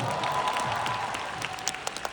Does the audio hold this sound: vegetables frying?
no